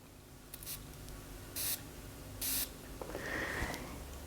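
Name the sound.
spraying Exalt Nuit perfume from a sprayer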